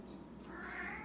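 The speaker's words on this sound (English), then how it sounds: "Brooklyn's very vocal, that's my cat." A pet cat named Brooklyn lets out a single short, faint meow indoors, a quick rising-and-falling call over quiet room hum.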